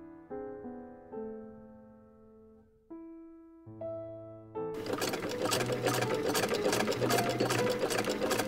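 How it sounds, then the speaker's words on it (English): A sewing machine runs close and steady, seaming the side seams of a high-waisted corseted skirt. It starts after a short run of plucked musical notes and hums continuously to the end. "I start off with seaming the side seams"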